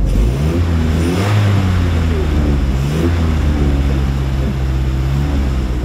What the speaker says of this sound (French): on entend le bruit du moteur